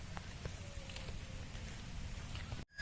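Rain falls steadily along a village road near a market, a soft, even patter heard fairly faintly for a few seconds before cutting off abruptly.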